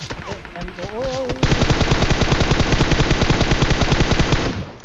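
Rapid automatic gunfire from a PUBG match played on an iPad, loud sustained bursts of evenly spaced shots filling most of the clip after a brief lead-in of game sounds.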